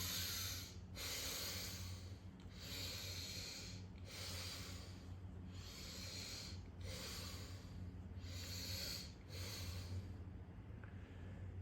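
Bhastrika Pranayam, the forceful yogic bellows breath, in rapid rhythmic huffs through the nose, about eight strong bursts each separated by a short pause, close and alone with no talking.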